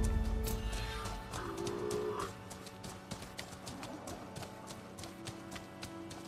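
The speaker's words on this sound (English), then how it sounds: "Robot horses, or whatever these things are." Robot horse footsteps in Horizon Forbidden West, a series of clip-clop hoof taps in a quick irregular rhythm, moderately close and fairly quiet, with a brief whinny-like mechanical cry early on.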